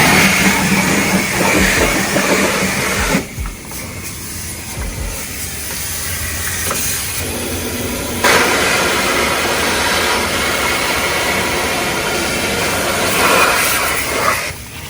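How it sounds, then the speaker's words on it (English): A pressure washer wand hisses loudly and steadily close by as it sprays into the jet pump and intake grate of a Sea-Doo GTI SE jet ski, with brief drops as the spray shifts. "we're gonna stick the wand up into the pump, both sides, through the back and underneath"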